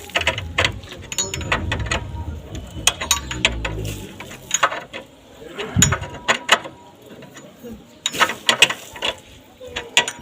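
Close mechanical ratcheting and metallic clinks as a nut is tightened on the brake rod of a Honda CD70 motorcycle, coming in irregular bursts of short clicks with a low tonal scrape partway through.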